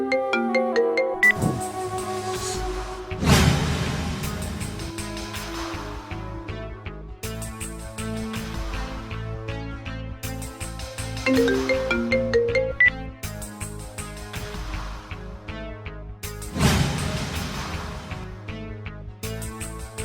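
A phone ringtone plays on and on unanswered, a looping electronic melody with repeating phrases, loud and clear with nobody speaking.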